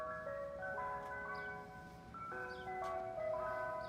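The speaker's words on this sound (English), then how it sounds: "ice cream truck, Good Humor truck," Good Humor ice cream truck jingle, a tinkling music-box melody played over a speaker in clear repeating phrases, moderately loud and close, with no talking.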